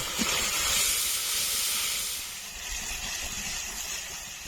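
Spices with turmeric and salt sizzling as they fry in a pan for a rustic pointed gourd curry, a loud steady hiss that eases slightly partway through and then carries on.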